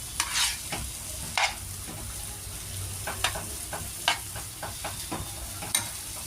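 Semolina (suji) stirred and frying in a pan gives a soft steady sizzle, broken by repeated scraping strokes of a spoon against the pan at an irregular pace, with no talking.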